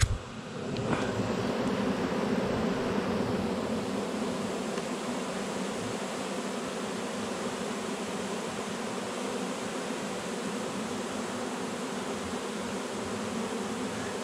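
A swarm of honeybees hangs in the air and on a branch during a swarm capture in April, close to the parent colony. Their buzzing forms a dense, steady drone that fills the whole stretch at an even level, with no voices.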